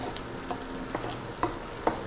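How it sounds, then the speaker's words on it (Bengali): Onion fries lightly in a pan with a soft, steady sizzle, punctuated by four quiet stirring scrapes spaced about half a second apart; no voices. "পেঁয়াজটা হালকাই ভাজবো।"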